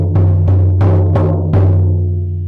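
A shamanic drum struck five times at a slow, even pace, each hit booming with a deep sustained resonance that rings on between strokes, loud and close with no voices.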